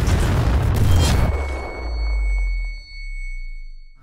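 A film explosion effect from a bomb-disposal action production bursts loud and close, a broad roar that cuts off into a deep rumbling boom that swells and fades, with a faint high ringing tone lingering over it.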